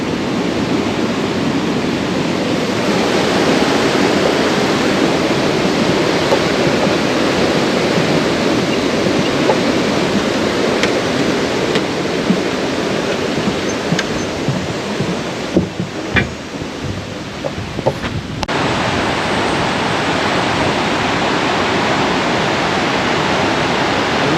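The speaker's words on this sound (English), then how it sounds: "you can see where this Presque Isle River empties into Lake Superior" The Presque Isle River rushes where it empties into Lake Superior, a broad, steady roar of flowing water that holds at an even level for over twenty seconds, with a few faint knocks partway through.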